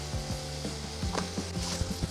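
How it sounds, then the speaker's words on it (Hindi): Spices, Kashmiri red chili and tomato fry in a kadhai with a soft sizzle, broken by repeated light scraping and stirring taps close by. "तो ये भुन चुक गए हैं मसाले।"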